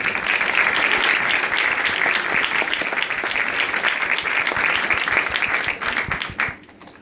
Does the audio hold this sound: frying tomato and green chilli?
no